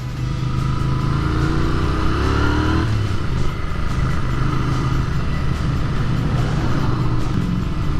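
A Royal Enfield Continental GT 650 motorcycle on a test ride, its engine droning steadily and loud with rising revs and a gear shift, wind noise over it, no talking.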